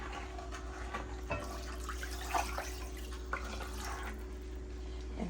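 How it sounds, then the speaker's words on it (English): About three cups of water poured into a pot of gravy, trickling and dripping liquid with small splashes over a low steady hum, close and fairly quiet, with no voices. "So I got about 3 cups of water here. Let's go ahead and add that in there."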